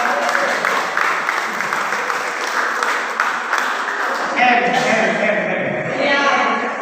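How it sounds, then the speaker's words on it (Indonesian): An audience at an Indonesian business package presentation claps on cue, a sustained patter of applause that thins out toward the end as other room sounds take over. "Tepuk tangan dong"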